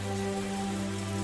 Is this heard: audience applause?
no